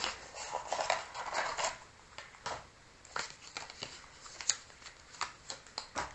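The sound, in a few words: tarot card deck being handled and shuffled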